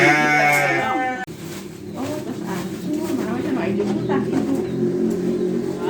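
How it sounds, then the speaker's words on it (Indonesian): Sheep bleat loudly and close by on a village smallholding, a long wavering cry followed by further bleats over a busy background where people talk. "Tadi itu tentu domba."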